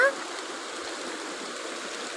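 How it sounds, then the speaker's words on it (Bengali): Light rain falls in a soft, continuous hiss, even and unbroken, with no voices. "বৃষ্টি হচ্ছে এই যে হালকা হালকা বৃষ্টি পড়তেছে"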